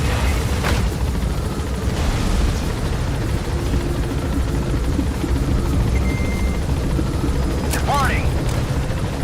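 Helicopter in Metal Gear Solid 5 taking off and climbing, a steady loud rotor and engine roar filling the whole stretch, with brief game effects near the start and end.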